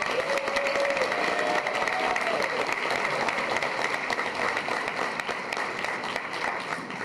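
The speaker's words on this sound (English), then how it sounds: "Please give him a round of applause." Sustained applause from a crowd, steady dense clapping throughout that gradually thins slightly toward the end, with no talking over it.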